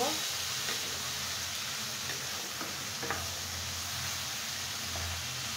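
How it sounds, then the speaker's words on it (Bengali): Bottle gourd peel and potato frying together in a pan give a steady, close sizzle that holds evenly through the whole stretch, with faint stirring ticks now and then. "আমি এখন 5 মিনিট লাউয়ের খোসাটা আর আলুটা একসঙ্গে ভেজে নেব"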